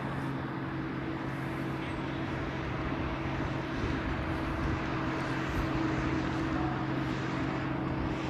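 A UPS Boeing 747 just pushed back at Honolulu airport gives off a steady, continuous engine drone and hum, with no voices over it.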